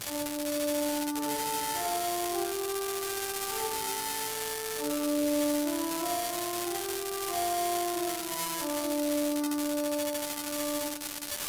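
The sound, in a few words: hymn tune Rouen (Iste Confessor) played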